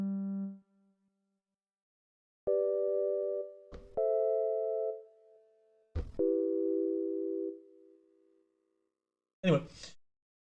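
Simple synthesized sine-like tones sounding in separate steady held notes with silent gaps between, clean and electronic, with a brief breathy or mouth sound near the end.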